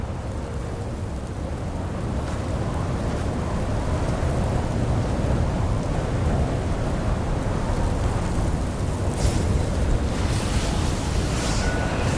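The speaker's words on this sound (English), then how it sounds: "Let's get out of this storm." Steady roar of a storm in the video game Genshin Impact, dense wind and rain noise filling the whole stretch with a faint rumble of thunder, loud and unbroken, with no talk.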